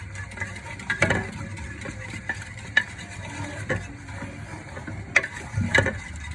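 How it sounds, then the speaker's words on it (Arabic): Salt and chopped onions frying in a pan, a soft steady sizzle with several louder stirring scrapes and knocks spread through, close by and without talk. "يتقلى لي الملح والبصل"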